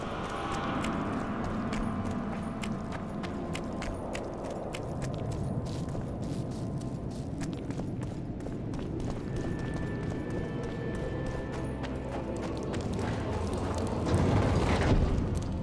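Hoofbeats of the horse Roach in the video game Witcher 2, a steady clip-clop carried over a dense, rumbling game soundscape, rising slightly louder near the end.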